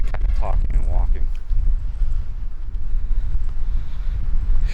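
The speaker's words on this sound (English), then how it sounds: "Extremely windy." Strong wind on Côn Đảo island, Vietnam, buffeting the microphone in loud, gusty roaring bursts, with a voice speaking briefly at the start.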